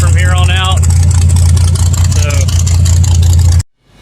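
A Vegas to Reno race car pulls out of the pit with a loud, close engine drone and a rising rev, then cuts off abruptly.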